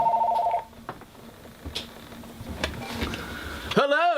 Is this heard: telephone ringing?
yes